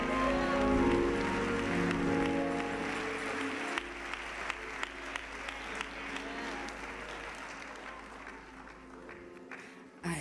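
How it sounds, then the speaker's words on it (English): At a church service, a congregation claps and celebrates with music and voices at first; the sound thins to scattered sharp claps and a low hum before a final loud burst. "Come on, somebody clap your hands and celebrate."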